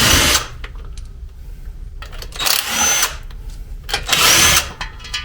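Power tool, likely an impact or drill driver, removes bolts from the differential cover on a Ford Sterling 10.5 axle, making loud repeated whirring bursts close by with brief pauses between them.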